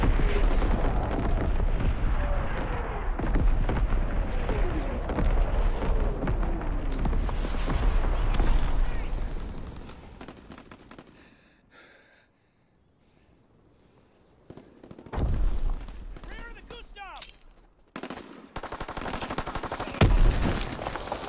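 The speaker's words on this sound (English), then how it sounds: "Firing primary battery." Naval primary battery artillery thunders in Call of Duty WWII, a dense barrage of loud overlapping booms and blasts for about ten seconds, then a near-silent lull before heavy firing resumes.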